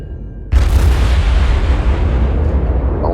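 Naval guns in World of Warships boom in one sudden heavy blast, followed by a long rumbling decay that fills the rest of the moment.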